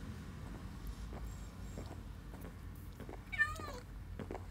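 A single cat meow from Minecraft sounds once, short and fairly faint, over a soft low background hum and light clicks.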